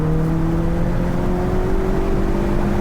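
A 2022 Hyundai Kona N drives an autocross course, its engine holding a loud, steady droning note that climbs slowly, with continuous road and wind noise.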